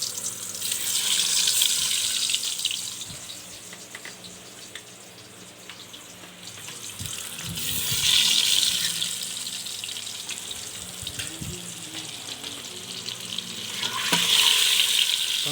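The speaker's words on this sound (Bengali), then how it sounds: "তেল গরম হলে সুন্দরভাবে ডিমগুলো তেলের মধ্যে ছেড়ে দিতে হবে।" Eggs fry in hot oil for an egg biryani cooked in a shared mess kitchen, making a steady bright sizzle that swells and fades, with occasional clinks and scrapes close by.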